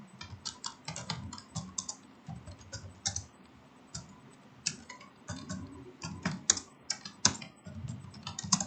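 A computer keyboard is typed on to enter a name in ArcGIS mapping software, with rapid, uneven key clicks in close, clear bursts and no speech.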